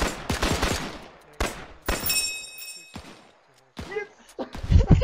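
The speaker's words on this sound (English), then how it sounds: "we just fire off a whole magazine each" A volley of gunfire in the World War II game Brothers in Arms, with whole magazines emptied in loud sharp bursts that come in separate clusters and leave short quiet gaps between them.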